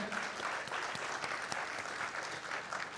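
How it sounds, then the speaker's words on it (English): Audience applause closing a session at the 51st National Convention of Company Secretaries in Varanasi: dense, sustained clapping from a large crowd, steady and even throughout, heard at a moderate distance. "Let's have a big round of applause, ladies and gentlemen."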